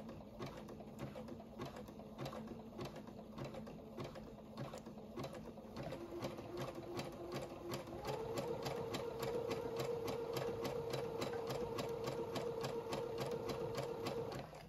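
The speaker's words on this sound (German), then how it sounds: "Und das ist jetzt ganz normale Zickzack, aber mit dreifache Nadel oder Drillingsnadel." Household sewing machine running a zigzag stitch with a triple needle: steady, rapid mechanical clatter in an even rhythm, close and fairly quiet, with a whirring tone that rises partway through.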